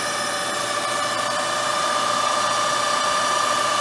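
A Karstens universal cylindrical grinder with a 10 by 12 inch capacity runs its work head and spindle, giving a steady, loud, close mechanical whine and hum with no pauses.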